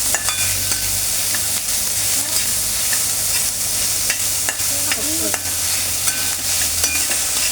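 Onions fry to brown in a pan with a loud, steady sizzle from close by. Light scraping and stirring clicks sound every so often.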